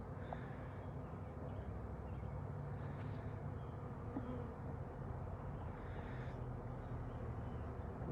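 Worker bees buzz around a hive fitted with a queen cage, a steady low hum from many insects, close and unbroken, with a faint bird call in the background and no talk.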